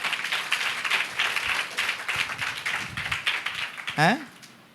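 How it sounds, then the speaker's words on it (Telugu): A congregation at an all-night prayer meeting claps in scattered, uneven bursts, moderately close, while a voice talks over it and a short tonal sound rises near the end. "చప్పట్లు కొట్టండి అందరూ ఒకసారి గట్టిగా"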